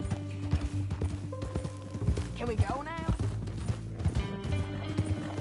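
Horse hooves clip-clop in Red Dead Redemption 2, a steady near rhythm of hoofbeats with a whinny and creaking tack, heard under a man's spoken line.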